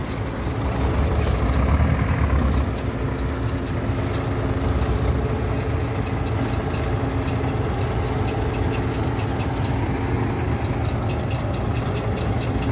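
A farm tractor engine runs steadily nearby, a continuous low rumbling idle with a slight swell in the first few seconds, no talk over it.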